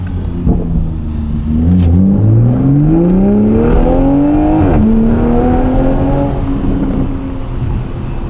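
Car accelerating hard on a freeway, engine pitch climbing steadily through a gear change and rising again, loud and sustained from inside the cabin over road rumble, no speech.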